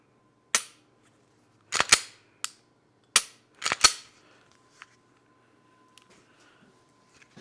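A pistol being function tested after reassembly with new XS night sights: a series of sharp, close mechanical clicks and snaps from the slide and trigger, some single and some in quick pairs, fading to faint small taps in a quiet room.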